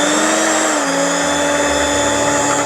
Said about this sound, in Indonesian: Masukkan semuanya dan kita mixer lagi dengan kecepatan rendah